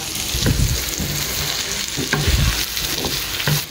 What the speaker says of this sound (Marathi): आनी 1 मिनीट एका बरो फ्राय करता हांव ऑन हाय फ्लेम